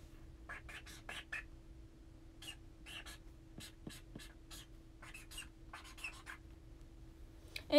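Handwriting with a pen, close and quiet: short scratchy strokes in uneven bursts separated by pauses, over a faint steady hum, ending in a brief louder knock.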